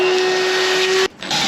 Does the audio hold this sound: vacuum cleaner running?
yes